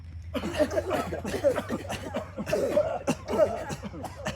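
Several people in a guided breathing exercise cough and clear their throats in scattered bursts, a loose group of short rough coughs overlapping at moderate volume.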